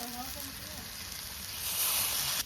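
Vegetables for khichuri sizzle softly in a pan as mung dal is added, a quiet steady hiss with faint scraping, growing louder and brighter near the end.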